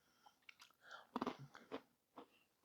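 Crisp, close crunching as small seasoned oat cereal pieces from a homemade Chex Mix are chewed, with several irregular bites and crackles at low volume and no talking.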